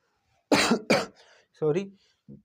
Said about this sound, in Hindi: थोड़ा ज़्यादा खांसी आ रही है।